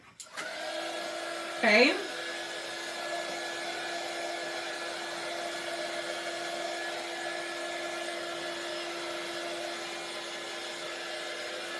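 A heat tool blows a steady, even whir while drying ink on a fall craft project, running continuously after a brief start, with one short spoken word near the beginning.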